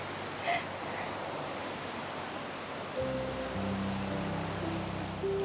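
Water rushes steadily at a waterfall beside a restaurant at Kifune Shrine in Kyoto, in summer among trees. The broad hiss continues throughout, and a low humming drone joins partway through.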